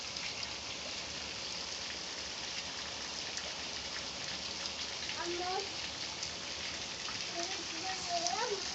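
Steady, dense rain pours and splashes nearby inside a house, leaking in without letup, with brief bits of talking rising over the hiss in the second half.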